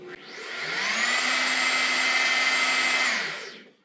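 A buffer spins a polishing pad against a Rustoleum-painted surface, a steady whining motor hum that ramps up, holds evenly for several seconds, then winds down, close and loud with no talk.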